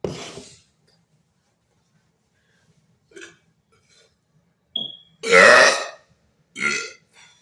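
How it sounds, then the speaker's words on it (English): Loud, drawn-out human burps with a couple of shorter ones around them, separated by quiet gaps and a few small mouth and breath noises, performed alone without speech. "I'll burp to whoever wants me to burp."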